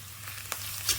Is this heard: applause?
no